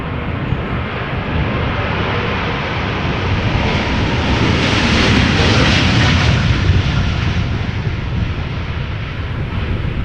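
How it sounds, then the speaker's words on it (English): United Boeing 777-200 jet taking off from Amsterdam Schiphol, a loud sustained roar of engines swelling slightly and holding steady throughout, heard alone without talk. "This is United Flight 21 777-200 going to Houston, Texas."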